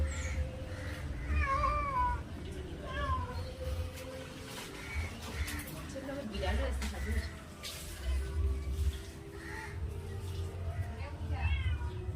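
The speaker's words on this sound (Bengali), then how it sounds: "মেয়াও মেয়াও করেই চলেছে।" A cat meows repeatedly in short rising and falling cries near a home kitchen while fish is handled, with people talking underneath throughout.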